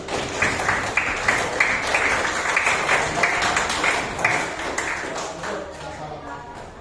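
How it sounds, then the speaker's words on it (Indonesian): A group at an Indonesian gathering claps hands in a steady rhythmic beat, each sharp pulse evenly spaced, with murmuring voices underneath and the clapping tapering off near the end. "Kasih tepuk tangan dulu."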